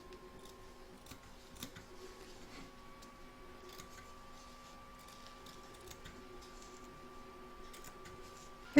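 A home embroidery machine stitches an in-the-hoop appliqué bell, a quiet mechanical whir with faint rapid ticking and a steady motor tone, ending in a sudden louder clunk.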